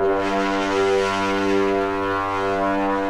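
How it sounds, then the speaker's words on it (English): A brass sample element in a tech house track sounds as one sustained, thick, horn-like chord, loud and steady throughout with no talk. "I added this brass element to spice things up,"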